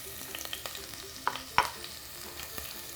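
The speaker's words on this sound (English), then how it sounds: "Let's stir that up." Thinly sliced ginger and green chilies fry softly in a pan for a cranberry pickle, with a faint sizzle under scattered utensil scrapes and two sharper clinks as the mixture is stirred.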